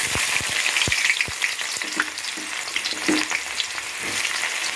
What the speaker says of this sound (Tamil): வெங்காயம் போட்டு நல்லா கொஞ்சம் ப்ரௌனாக வரணும். அந்த அளவுக்கு வதக்கணும்.